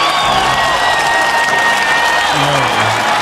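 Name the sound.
audience applause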